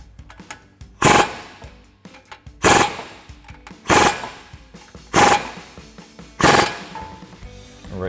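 A power tool with a 19mm swivel socket tightens the upper ball joint while Freedom Offroad adjustable front control arms go onto a Toyota Tacoma. Five loud, close rattling bursts of about a second each come with short quiet gaps between them.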